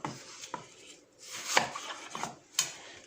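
Knife slicing cored apples quite thick for an apple crumble, giving a series of crisp, close cuts and taps against the board at an uneven pace, with quiet pauses between strokes and no talking.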